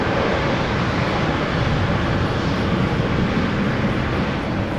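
A KLM Boeing 737-800 bound for Lisbon passes the runway threshold at Amsterdam Schiphol, its engines producing a steady, broad jet roar that holds at an even level with no voices.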